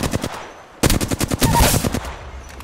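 Rapid bursts of automatic gunfire from a shooter video game, loud and close, a short volley, a brief pause, then a longer sustained burst.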